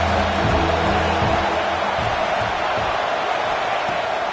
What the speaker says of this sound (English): The Tide crowd roaring noise down on the Saban field on 3rd down